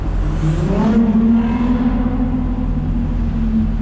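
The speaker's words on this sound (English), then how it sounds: "now it full throttle upshifts" A car under full throttle upshifts, with a rising engine roar that drops sharply at the shift and then settles into a steady, loud drone heard from inside the car.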